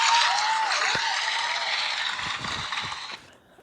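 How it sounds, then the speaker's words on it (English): A crowd breaks into loud applause, with dense clapping sustained for about three seconds before it cuts off abruptly. "Want to give a round of applause to that."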